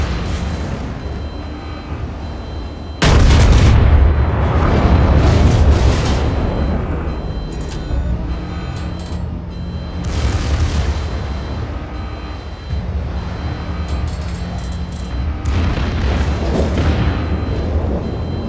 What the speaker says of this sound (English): And I can just start shooting at him.